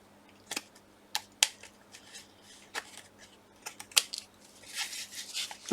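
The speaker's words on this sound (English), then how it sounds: "I'm going to trim down these bits" Paper bits being trimmed for a handmade journal front, heard as a run of short, crisp scissor snips and light paper rustles, scattered and close, with small clusters of cuts and brief pauses between, no talking.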